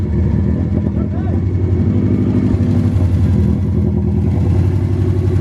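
A Subaru car engine running after new spark plugs and a new fuel filter: a steady, loud, slightly clattery idle, close up and continuous, with a person talking over it.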